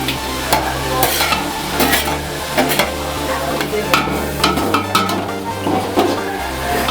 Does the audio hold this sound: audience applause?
no